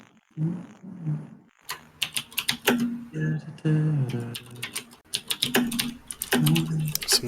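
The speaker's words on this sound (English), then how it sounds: "Someone's hitting their mechanical keyboard." Rapid clacking keystrokes on a mechanical keyboard, heard close up in fast bursts alongside a few short bits of talk.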